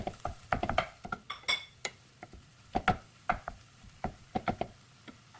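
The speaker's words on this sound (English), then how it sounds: "Here I have a pound of lean ground beef, and I'm going to start breaking that apart and cooking that through." Lean ground beef being broken apart in a pan, a utensil scraping and tapping against the pan in a steady run of sharp clinks and knocks, close and clear with no talking.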